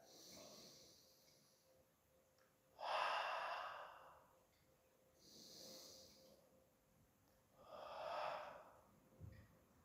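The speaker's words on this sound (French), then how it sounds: "la respiration va te permettre de te calmer" Slow, deep breaths come from someone holding a static yoga pose, three loud breathy swells a few seconds apart with quiet gaps between them, close to the microphone and with no talking.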